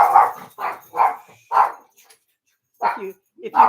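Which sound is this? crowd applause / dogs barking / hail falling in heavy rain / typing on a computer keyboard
dogs barking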